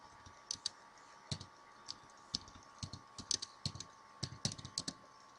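Keys on a computer keyboard are tapped in irregular bursts of close, crisp clicks over a faint steady electrical hum, with no talking.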